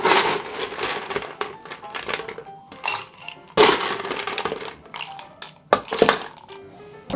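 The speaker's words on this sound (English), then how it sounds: "we're gonna add some ice to our rocks glass." Ice cubes dropped into a rocks glass while mixing a keto summer cocktail, producing repeated bright clinks and clatters in uneven bursts, close and fairly loud, with no talking.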